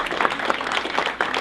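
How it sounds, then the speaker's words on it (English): Applause from a small audience at a local historical society talk, a steady dense patter of many hands clapping close by, filling the short moment without pause. "A big round of applause for Brian."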